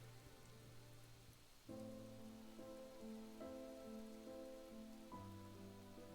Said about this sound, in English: Why is it raining in this room?